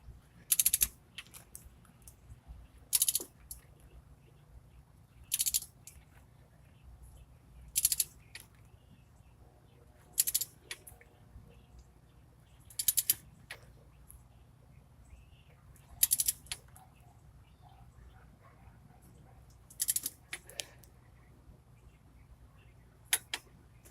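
A ratchet wrench tightening the last bolt on new up pipes of a 2000 Ford 7.3 diesel, with short bursts of clicking repeated about every two to three seconds over a quiet background.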